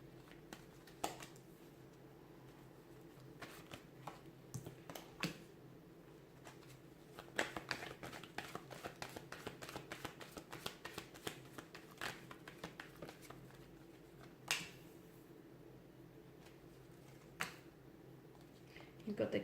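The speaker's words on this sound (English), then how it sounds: "let's give the cards a shuffle" Tarot cards being shuffled by hand, soft riffling and tapping clicks in irregular bursts, fairly faint and close, with a busier run of crisp card flicks in the middle.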